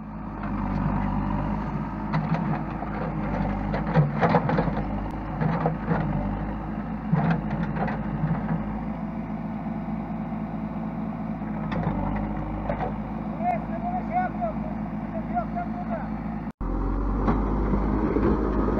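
A JCB 3CX backhoe loader levels a sloping patch of ground, its diesel engine droning steadily throughout with clanks and mechanical knocks from the bucket work, fairly close and alone without talk.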